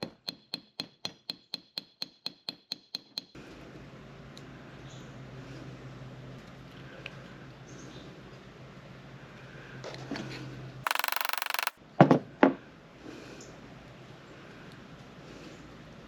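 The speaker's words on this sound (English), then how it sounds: "Now that we've got that blade hammered out straight again" A hammer taps a bent knife blade straight against an anvil, about a dozen quick, evenly spaced metallic strikes up front, followed by quieter handling noise and a few sharp clacks.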